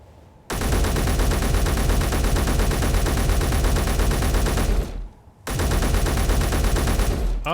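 An MR50A gun fires in a video game, a loud continuous automatic stream of shots lasting several seconds, with a short pause before another long burst, alone and close.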